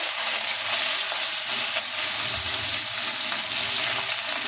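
Chopped onion hitting hot oil with black cumin seeds in a pan, a loud, dense, steady sizzle hissing without a break, close to the pan.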